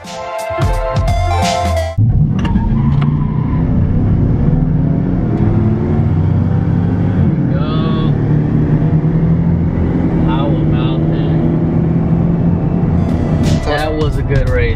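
A twin turbo car with intake, long tube headers, exhaust and 200 stall drag racing a truck at a drag strip; loud sustained engine roar and wind drone dominate the clip after a brief burst of chatter, with a voice speaking near the end.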